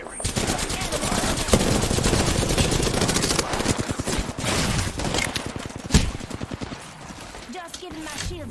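Rapid automatic gunfire in the battle royale shooter Apex Legends, long loud bursts of closely spaced shots with brief gaps and a sharp crack near the end, close and continuous with a voice briefly over it.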